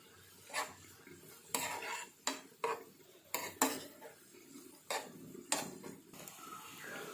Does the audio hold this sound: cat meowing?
no